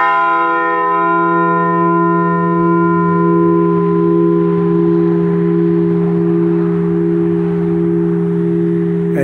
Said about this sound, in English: I'm going to ring the Liberty Bell outside.